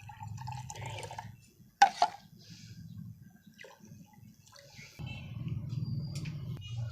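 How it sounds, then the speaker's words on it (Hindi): Mint syrup poured into a glass for a mint lemon drink, a soft liquid gurgle in two short pours separated by a brief clink and quieter handling. "इसमें पुदीने का शरबत ऐड करेंगे"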